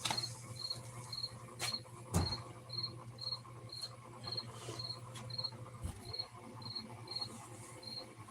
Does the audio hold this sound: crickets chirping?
yes